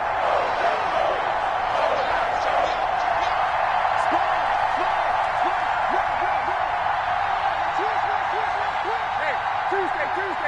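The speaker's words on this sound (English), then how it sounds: "the crowd getting into it as we come up on a big third down" A football stadium crowd roars steadily and builds toward a big third down, a dense, constant wall of noise with a commentator talking over it throughout.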